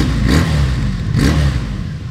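A 1985 Honda V65 Sabre motorcycle engine revving loudly and close, two swelling rev pulses rising and falling over a steady, full exhaust drone.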